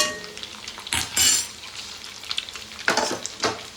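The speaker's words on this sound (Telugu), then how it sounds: "ఇప్పుడైతే పచ్చిమిర్చి వేసుకున్నాము కరివేపాకు ఆ రెండు కొంచెం వేగాలి" Green chilies and curry leaves fry in a pan, a constant sizzle broken by a few sharp scrapes and clinks of a utensil stirring against the metal.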